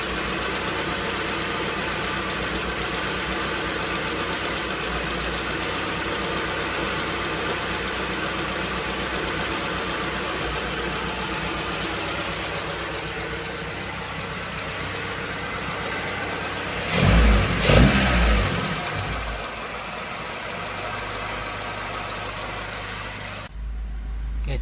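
A car engine with a carburetor idles steadily while the idle screw is adjusted, a constant close hum that swells in a brief rev near the end before settling again.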